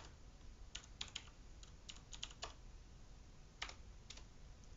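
A git command is typed on a computer keyboard, a faint, close run of light key clicks in small irregular bursts over a low hiss.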